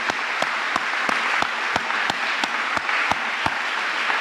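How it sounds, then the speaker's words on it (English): Lecture hall audience at a university lecture clapping together, a fairly sparse, thin applause with distinct individual claps standing out in a loose rhythm, no voices over it. "would you join me in clapping you and all of the other many people?"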